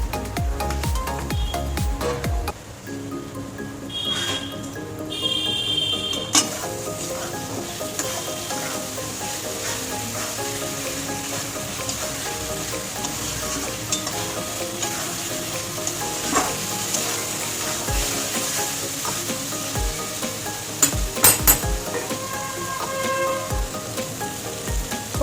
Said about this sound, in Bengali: এবার পটল ভাজাগুলো দিয়ে দেবো।